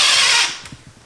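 A cordless DeWalt drill whirs loudly for about half a second, then winds down and stops, leaving faint low knocks and handling clatter close by.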